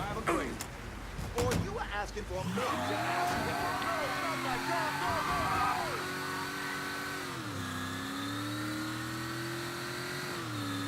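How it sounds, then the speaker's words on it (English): A car engine in the video game Mafia III starts and revs up, then holds a steady, slightly shifting drone, with a voice talking over it. "This car sounds nice."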